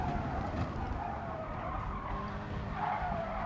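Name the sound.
car locking up brakes and skidding in a racing game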